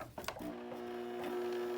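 A sewing machine stitches wig tracks onto a wig cap, a short close whirring run that follows a couple of brief clicks at the start.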